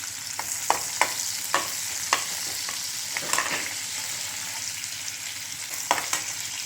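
Onion frying in a hot mustard and cumin tempering for a ground-masala amti, a steady crackling sizzle broken by repeated sharp scrapes and clicks of stirring.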